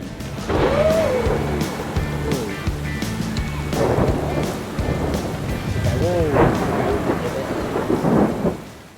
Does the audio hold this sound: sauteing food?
no